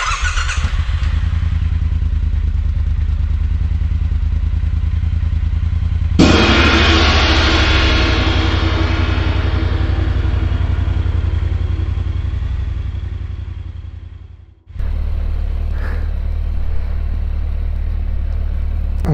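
A Suzuki GSX 1400 motorcycle engine runs steadily to warm up, a loud, close, continuous rumble with a brief rise in pitch partway through, a sudden cut near the end, then steady running again, with no talking.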